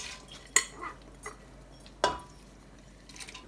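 A few sharp metallic clinks and a soft rattle as lentils are tipped into a metal pressure cooker, with quiet pauses between.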